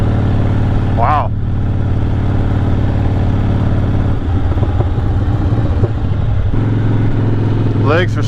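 A 2006 Harley-Davidson Softail Deluxe motorcycle engine drones steadily and loud while riding, a low continuous rumble with shifting pitch midway, wind noise throughout and brief whistling tones near the start and end.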